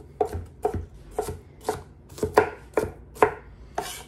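A knife chops garden-grown zucchini for a summer skillet dinner: about eight crisp, evenly spaced chops against a cutting board, close and clear, with no talking.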